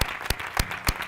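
A few sharp, evenly spaced claps ring out close by, about three per second, during a question session held in Spanish.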